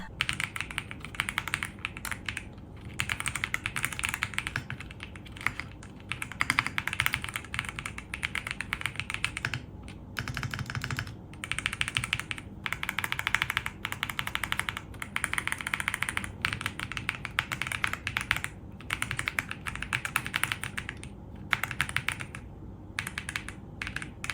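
Keys on a Loga Yaksa Pro mechanical keyboard clack in rapid bursts of typing, crisp close clicks separated by short pauses, with no voices.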